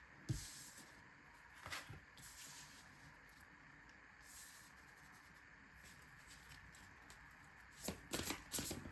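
A deck of tarot cards is shuffled and split by hand, giving soft riffling, rubbing card sounds in several short bursts, with louder riffles near the start and a cluster at the end, quiet and close with no talk.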